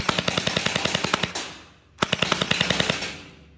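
MP9 electric gel blaster firing on full auto, two rapid bursts of evenly spaced sharp shots at close range with a short pause between them, no talking.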